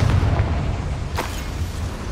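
A Confringo blast spell bursts in Hogwarts Legacy, a heavy booming explosion with a rumbling low tail and a brief crackle of debris, loud and close with no talk.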